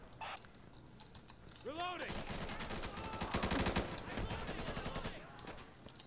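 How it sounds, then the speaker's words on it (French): Gunfire in the video game Insurgency, rapid automatic bursts of rattling shots that run for several seconds at moderate loudness, with clicky mechanical sounds and brief voices mixed in. "Il faut leur en mettre des balles."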